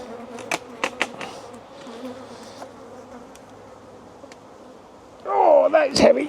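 Honeybees buzz steadily around an opened bottom brood box of a beehive, a low droning hum with occasional louder close passes, swelling sharply near the end as the box is handled.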